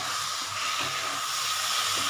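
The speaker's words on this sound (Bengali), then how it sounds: "গ্যাসের আঁচটা বাড়িয়ে দিই।" A gas stove burner on a home kitchen hob hisses steadily while the flame is turned up, a continuous close breathy rush with no speech, heard while raw green banana mash is being cooked.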